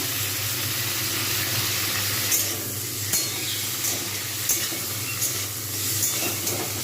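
Grated tomatoes hiss and sizzle in a hot pan while making chilli cauliflower, a steady broad frying sizzle with a few light clinks of a utensil against the pan, no talking.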